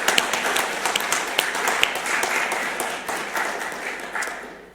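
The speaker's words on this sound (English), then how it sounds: "I really think they deserve a huge round of applause" Applause for presenters at the close of a city planning forum, a moderate crowd clapping steadily with scattered sharp claps standing out, tapering slightly toward the end.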